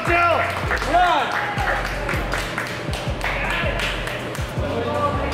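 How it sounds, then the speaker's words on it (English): A crowd cheers and claps for a contestant in a Carolina Reaper hot wing challenge, with loud voices and chanting mixed into rhythmic, steady clapping close by. "Come on, guys, cheer him on."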